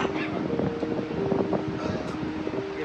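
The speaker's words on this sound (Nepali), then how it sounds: "शीतल हावा आइरहेछ" Cool wind blows on the trip to Manang, Nepal, a steady breathy rush buffeting the microphone, with a low rumble underneath and no voices.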